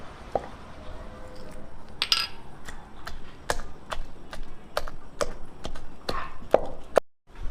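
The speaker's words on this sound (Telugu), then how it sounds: "ఎల్లిపాయలు వేసుకొని దంచుకోవాలి." Garlic and red chilli chutney pounded in a stone mortar, a steady run of sharp, close knocks repeating in an uneven rhythm, loud and alone without voices.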